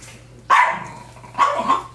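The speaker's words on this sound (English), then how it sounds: "He's barking at her." A dog at a dog retirement home barks twice during morning play, two sharp, fairly close barks about a second apart with no one talking.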